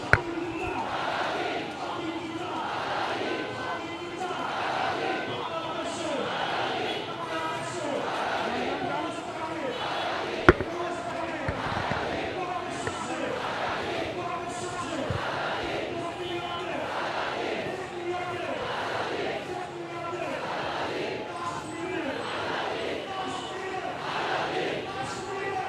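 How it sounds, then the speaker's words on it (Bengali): A large protest crowd at Shahbag square chants slogans in a steady call-and-response rhythm, massed voices rising and falling in regular waves throughout, with a faint thump partway through. "এই মুহূর্তে স্লোগানে উত্তাল শাহবাগ চত্বর।"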